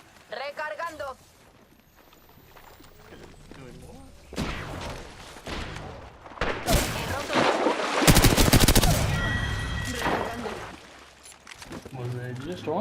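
Rapid automatic gunfire in a video game firefight, loud sustained bursts in the middle and latter part, amid game voice lines and players talking.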